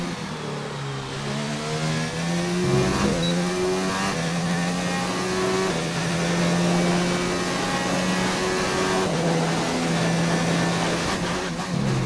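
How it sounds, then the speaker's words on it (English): A van on a hot lap at the AFR Singapore round, its engine loud and continuous, revving up and down through gear changes with rising and falling pitch sweeps over twelve seconds. "Van hot lap."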